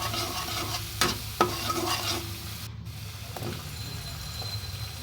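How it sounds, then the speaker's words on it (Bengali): Spices, turmeric, chili powder and salt, stirred and fried in oil in a pan for a pabda fish curry: a steady close sizzle with a couple of sharp scrapes of the spoon against the pan, no talking. "হলুদ আর মরিচের গুঁড়ো এবং পরিমাণ মতো লবণ দিয়ে এটাকে ভালো মতো কষিয়ে নিতে হবে"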